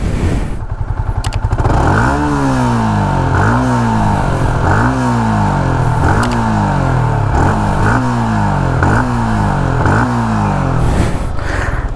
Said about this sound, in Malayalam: എക്സോസ്റ്റ് നോട്ട് കേൾപ്പിച്ചില്ലല്ലോ, അത് കേൾപ്പിച്ചേക്കാം.